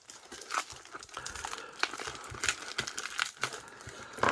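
Small blade slicing and tearing open a plastic pack holding broken silver mechanical pens, close crinkling and crunching with brief scrapes and rustles over a few seconds, no talking.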